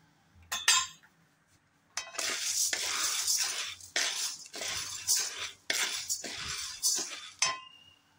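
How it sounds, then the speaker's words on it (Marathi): Dry chana dal lentils are tipped and stirred in an empty kadhai for dry roasting, giving a series of close rattling, clinking bursts with short pauses between them, without any talking. "आता कढईत आपण चणा डाळ घालणार आहोत. ही चांगली खरपूस भाजून घ्यायची आहे."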